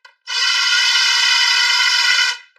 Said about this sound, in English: let's drill the hardware holes.